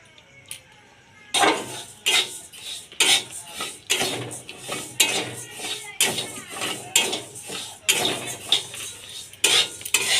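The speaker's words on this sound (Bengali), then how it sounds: "আর মুগ ডাল দিয়ে ভেজে নেব।" Moong dal with a cinnamon stick being stirred and fried in a wok, a metal spatula scraping and clanking against the pan in repeated quick bursts, close and fairly loud.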